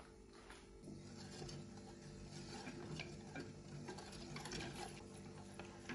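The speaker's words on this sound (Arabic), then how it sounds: "هلا بحركن على الغاز" A spoon stirring a custard drink in a pot on a gas stove, steady scraping and clinking against metal over a faint low hum, quiet and continuous.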